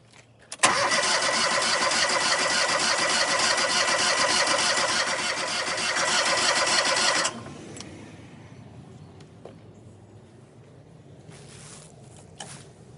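American Jetter 51T Inferno Burner jetter engine cranks and catches, then roars loudly and steadily for several seconds before cutting off abruptly, leaving a quieter background with faint clicks.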